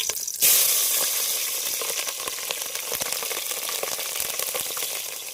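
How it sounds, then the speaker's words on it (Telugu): Chillies dropped into hot oil for a mutton curry at a deep-forest campsite, giving a sudden loud burst of sizzling that settles into a steady, close crackling fry with small pops and stirring sounds. "ఇప్పుడైతే మేము మిరపకాయలు అయితే వేసుకుంటున్నాము"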